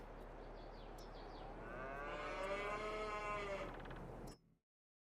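Cows moo in a farming video game: drawn-out, wavering calls rise over a steady low hum, then everything cuts off abruptly into silence.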